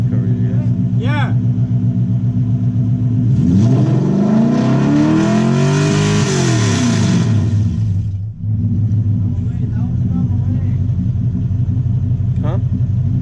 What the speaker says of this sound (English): he's gonna rev it to 66